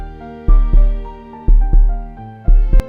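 Heartbeat sound effect in a horror story, with deep, loud thumps arriving in lub-dub pairs, slightly uneven, over a sustained eerie musical drone.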